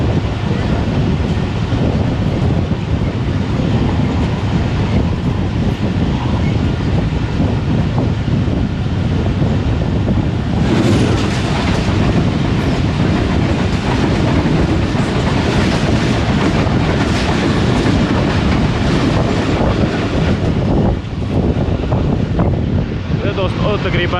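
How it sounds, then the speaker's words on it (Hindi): Loud steady rumble and rattle of Pakistani passenger trains, the 7 Up Tezgam and 2 Down Khyber Mail, crossing with a ZCU locomotive leading, heard close by with constant wind buffeting and rhythmic clatter throughout. "अब आपको क्रॉसिंग दिखाते हैं 7 अप तेज़ गाम के साथ टू डाउन खैबर मेल की"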